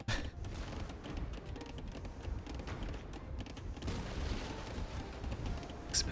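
A cannon galleon firing in a strategy video game match: a dense, rumbling barrage of muffled booms rolling on throughout at moderate loudness, with no talking.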